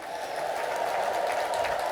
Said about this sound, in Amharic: እልል ብላችሁ አመስግኑልኝ